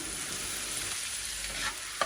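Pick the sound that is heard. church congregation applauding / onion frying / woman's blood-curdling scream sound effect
onion frying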